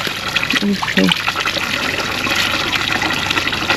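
Water splashes and trickles at a village trough on a sunny day, a brief gush followed by a steady running flow, with people talking over it.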